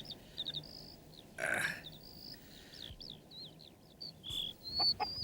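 A cartoon hen in a tree makes repeated short clucking calls alongside brief whistle-like chirps, with a burst of flapping noise as it flies off, clear and close with no talk.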